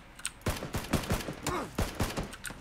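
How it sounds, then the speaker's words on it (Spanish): Rapid gunfire in the battle royale game PUBG, a string of sharp cracks in quick irregular bursts, loud and close, with a faint voice-like tone mixed in. "Aquí hay balazos, tío."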